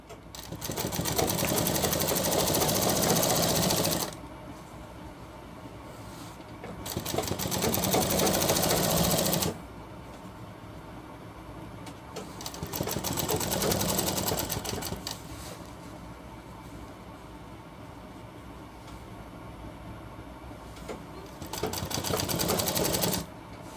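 A sewing machine stitches a shirt hem in a single pass, running in four separate bursts of fast, steady mechanical chatter, with quieter gaps between the runs.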